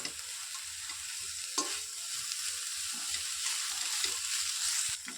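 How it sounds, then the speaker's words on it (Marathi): Vegetables and paneer stir-fried over a high flame, a steady sizzling hiss with scraping spatula stirs and occasional clinks, close and continuous with no talk. "आपल्याला हे सर्व हाय फ्लेमवर परतवायचं आहे"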